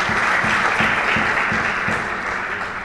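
Sustained audience applause at a political speech on caste census and social justice, dense and steady throughout, with a faint rhythmic thumping pattern underneath and fading slightly toward the end.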